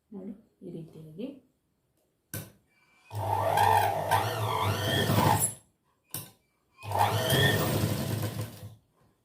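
A sewing machine stitches cups onto a blouse in two loud, close bursts of rapid mechanical whirring, with someone speaking briefly before and between the runs.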